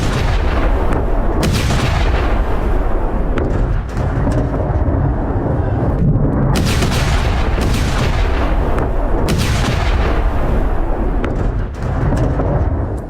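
Explosions from an attack on an Iranian TV channel, heard as continuous loud, distorted rumbling booms and blasts in a dense roar, with no speech.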